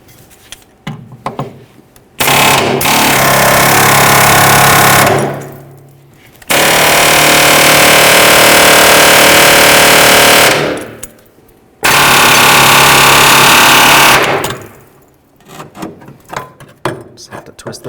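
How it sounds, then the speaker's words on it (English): An air chisel cuts rivet heads off a Ford Ranger rear shock mount bracket. It fires in three long, loud, rapid hammering bursts of several seconds each, separated by pauses with clanks and handling noises. "If you happen to have an air chisel, go ahead and use that."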